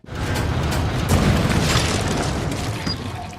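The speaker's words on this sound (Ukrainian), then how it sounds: "коли Леон разом з Ешлі пробираються до зручно розташованої поряд гармати, щоб відчинити нею двері." A cannon fires to blast open a door in the Resident Evil 4 Remake video game, a loud, deep boom that rolls on into a long, rumbling decay with no voices.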